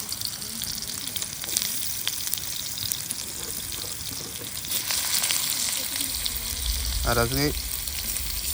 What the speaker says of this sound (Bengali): তো এবার যাচ্ছে আলু ভাজা